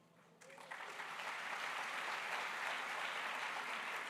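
A large audience at a SADC public lecture breaks into applause on the acknowledgement of President Cyril Ramaphosa, swelling quickly from quiet into dense, sustained clapping at a distance.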